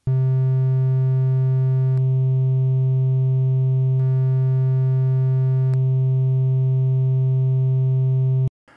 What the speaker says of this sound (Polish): Znacznie lepiej dokonać tego na przebiegach matematycznych innych niż sinus.